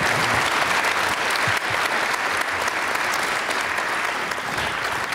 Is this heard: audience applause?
yes